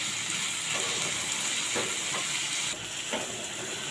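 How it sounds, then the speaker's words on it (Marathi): Chopped tomato sautéing with onions in a pan for besan bhurji gives a steady, fairly quiet sizzle with a few faint stirring scrapes and no talking. "आता टोमॅटो चांगला परतून घ्यायचा आहे कांद्यामध्ये"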